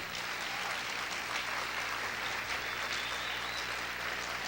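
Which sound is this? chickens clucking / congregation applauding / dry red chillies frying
congregation applauding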